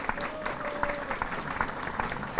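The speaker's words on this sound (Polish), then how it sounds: "Dla koleżanek też wielkie brawa" Applause from the crowd at a harvest festival, with distinct individual claps standing out over a steady wash of sound; moderate loudness, outdoors, no talk.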